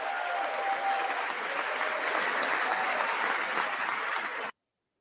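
Audience applause at a political gathering on the 2024 election result: steady, dense clapping from a large crowd, heard from a moderate distance, that cuts off abruptly.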